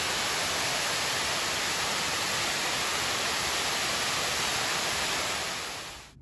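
A steady, dense rush of falling water from a waterfall on the Fiery Gizzard Trail, South Cumberland State Park, Tennessee, fills the scene, loud and unchanging, fading out at the very end.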